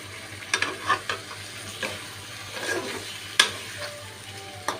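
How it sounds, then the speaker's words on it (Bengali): Diced potatoes stirred and sautéing in a pan for a Bengali fish curry with ash gourd and garam masala, a steady soft sizzle broken by several sharp spoon scrapes and clacks against the pan, close by with no talking. "আমি একটু কষিয়ে নিব। দেখো ডুমো করে রাখা আলু"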